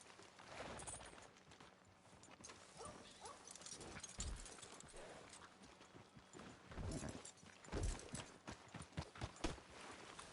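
Horse hooves clip-clopping in Red Dead Redemption 2, a steady rhythm of hoofbeats at close range running throughout, with louder clusters of strikes toward the end over faint ambient game sound.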